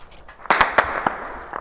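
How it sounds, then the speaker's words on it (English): Gunfire in an urban neighbourhood battleground in Sudan, with sharp reports cracking very close, a cluster of several shots followed by a few fainter pops. "we're now being ushered away after hearing very close gunfire"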